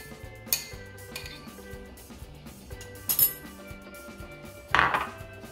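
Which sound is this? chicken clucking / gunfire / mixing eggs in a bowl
mixing eggs in a bowl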